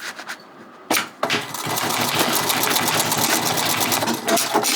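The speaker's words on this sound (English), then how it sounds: "So that's why we're going to go over to the walking foot machine now." A walking foot sewing machine stitches a strap through thick foam, starting with a brief whir and then running in a fast, steady mechanical chatter of needle strokes, close and loud, with no talk.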